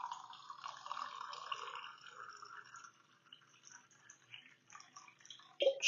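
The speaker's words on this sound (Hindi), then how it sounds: "ये मेरे पास जो है ये चिल्ड वाटर है, चिल्ड वाटर डालेंगे।" Chilled water pours into a tamarind and aloo bukhara (plum) sharbat, a steady splashing trickle that thins and fades before a brief louder clink near the end; no one talks.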